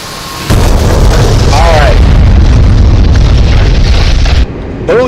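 A bomb detonates on a BTR-80 armored vehicle in the DCS World A-10C flight simulator, a loud sustained boom and rumble that swells and lingers for about four seconds, with brief talk and whistling tones in the background.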